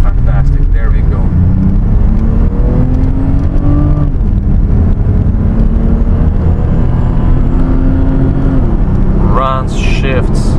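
A 1990 BMW 535i E34 with the M30 inline-six engine runs steadily while driving on the road, a loud continuous drone with rising and falling pitch as it shifts, alongside a voice talking over it.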